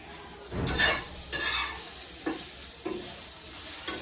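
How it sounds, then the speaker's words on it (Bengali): Carrots stir-fried with very little oil for a vegetable dish: a soft sizzle under several distinct scraping stirs of a spatula in a pan, spaced about a second apart, close and moderately quiet. "আমাকে এইটা দিয়ে এখন সবজি বানিয়ে গাজরটা খেতে হচ্ছে"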